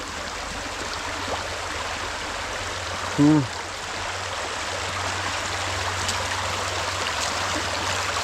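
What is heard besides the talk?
small waterfall, flowing stream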